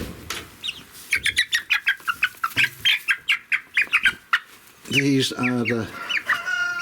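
Young purebred Wyandotte hens, not yet fully feathered, chirp and cluck in a rapid series of close peeping calls, with a louder burst of clucking near the end and a brief spoken phrase.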